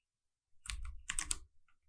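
Quick keystrokes on a computer keyboard while writing Kotlin code, a short burst of close, crisp taps in two clusters with a soft final press, in an otherwise quiet room.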